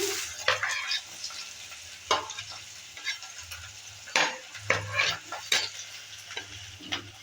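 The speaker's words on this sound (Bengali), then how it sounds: "এবার দিয়ে দিচ্ছি একটা বড় সাইজের পেঁয়াজ কুচি করে কেটে নিয়েছি" Chopped onion fries in hot mustard oil with black cumin, for a pumpkin bhorta, giving a soft steady sizzle broken by repeated scraping and clinking as a spoon stirs the pan.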